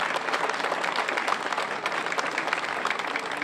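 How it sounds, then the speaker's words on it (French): A crowd at the 2019 Saint-Émilion rally applauds the winners with steady, loud clapping that goes on without a break and is not covered by any speech. "Vous pouvez les applaudir."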